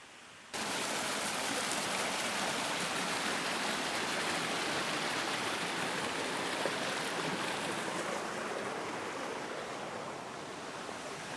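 Water rushes steadily down Noname Creek on the Olympic Peninsula, a dense, continuous broadband roar that starts abruptly after a brief quiet moment and holds loud and close throughout, with no voices.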